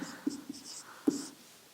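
Brief handwritten note-taking during a maths lesson, a few quick soft scratching strokes close by, with faint breathy vocal sounds in the background.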